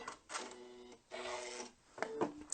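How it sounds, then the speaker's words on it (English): A Janome M7 sewing machine runs in two short motor bursts for a lock stitch, a close whirring hum with a brief click and rattle at the end, no voices. "I'm going to use the lock stitch to secure that, and then cut the thread"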